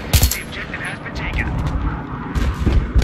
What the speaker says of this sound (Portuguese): Eu tô vendo som de tiro perto.